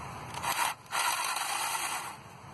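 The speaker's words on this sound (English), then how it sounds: "Gonna unscrew here, 10mm." A ratchet loosening a 10mm bolt on the engine of a 2005 Toyota Corolla during a spark plug change, heard as two close bursts of clicking, scraping mechanism noise with a short break between them, no talk.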